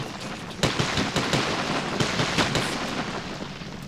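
Shotgun blasts ring out in Metro 2033, several sharp booming shots spaced irregularly over a constant noisy game background, loud and close, with no talk.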